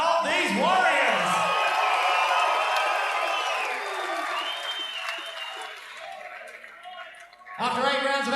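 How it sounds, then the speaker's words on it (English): A boxing arena crowd applauds and cheers for two fighters after an eight-round bout, with whoops and shouts over steady clapping that gradually subsides before an announcer's voice returns. "let's hear another big round of applause for both of these warriors"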